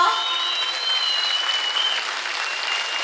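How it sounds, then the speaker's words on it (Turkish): Crowd applause at a public gathering in Mersin, loud and steady continuous clapping throughout, with a faint voice or whistle-like tone briefly audible over it. "sizin de büyük alkışlarınızla"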